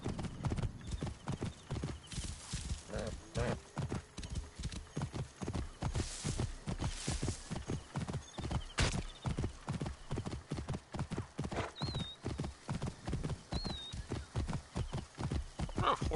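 A horse in the game Assassin's Creed Origins gallops with a steady, quick clip-clop of hooves throughout, joined by occasional neighs and whinnies over a busy game soundscape.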